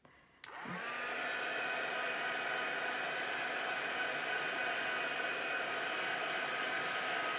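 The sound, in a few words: heat tool drying a craft piece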